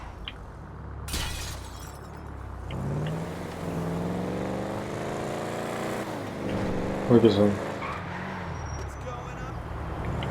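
A car driven in the GTA 5 video game, its engine hum rising and shifting steadily with a brief crash-like burst near the end, while a person talks over it.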